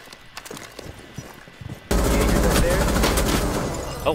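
Rainbow Six Siege gunfire shot through a wall: a quiet opening with faint clatter, then about two seconds in a loud, sustained burst of rapid automatic fire that stays dense to the end.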